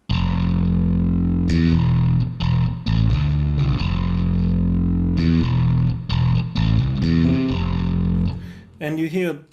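A virtual bass guitar from the Orange Tree sample library plays a distorted rock line in a heavy cover arrangement, with steady sustained low notes and short breaks, loud and continuous throughout.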